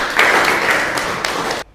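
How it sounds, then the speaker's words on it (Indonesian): A classroom applauds a student group with a dense burst of many hands clapping together, starting strongly and fading slightly before stopping abruptly. "Kita beri tepuk tangan untuk kelompok"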